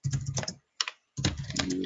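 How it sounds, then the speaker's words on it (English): A computer keyboard in use during email composition, with quick clusters of light key clicks in two bursts split by a brief pause and a short run of taps. "I'm clicking enter a few times"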